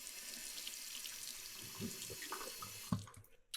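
Tap water runs steadily as a safety razor, a Timeless Tuxedo open comb, is rinsed at a sink, with a brief clatter near the end.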